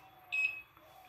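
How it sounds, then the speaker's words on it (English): A short electronic beep rings out as an SMS alert arrives on an ESP32-based sign-to-speech device with flex sensors and a Bluetooth app, a single clear tone of about a fifth of a second over quiet background. "SMS alert received."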